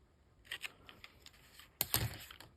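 Scissors cutting open weave ribbon at a papercraft table: a few soft snips followed by one louder, close, crisp cut near the end, in an otherwise quiet room.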